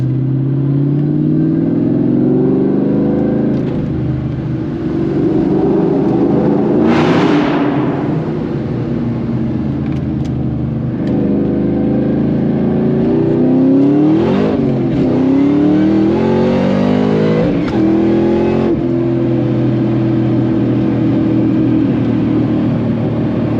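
A 2003 Ford SVT Cobra with a T56 Magnum manual transmission accelerates hard through the gears. Loud engine revs climb repeatedly, broken by shift breaks, heard close from inside the car with no voices.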